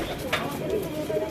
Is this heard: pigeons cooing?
yes